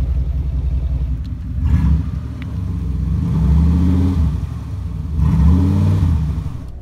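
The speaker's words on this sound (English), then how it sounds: "I don't like to rev it too high, sorry." A 1990 Cadillac Coupe DeVille fitted with an exhaust cutoff valve revs loudly nearby, its deep engine note swelling and falling in three moderate rises over a rumbling idle.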